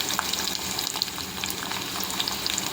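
Chopped onion and tomato frying in a pan with mustard seed, cumin, garlic and curry leaves, giving a steady close sizzle with small crackles and pops.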